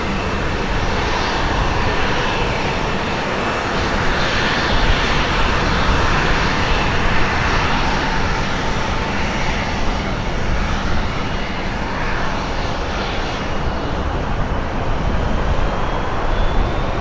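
Heavy airliner climbing slowly after takeoff at Portland airport, a loud, sustained engine roar rumbling steadily through the whole stretch, with no speech.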